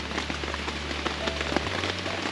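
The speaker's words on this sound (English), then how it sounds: "listening to the rain fall through the forest, through the trees, onto the tarp." Constant rainfall drums on a tent tarp nearby in a forest, a dense even hiss with scattered louder drops and a low hum underneath.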